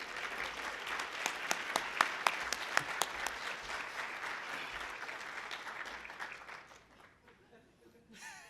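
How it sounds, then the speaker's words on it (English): A crowd applauds loudly with dense, steady clapping and a few sharper claps, then the applause fades out toward the end. "So let's welcome and give a big applause to Mr. Bretz."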